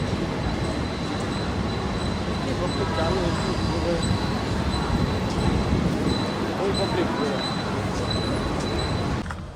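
A passing train produces a continuous rumbling roar of wheels on rails, with a faint high wheel squeal running through it, and voices mix into the background.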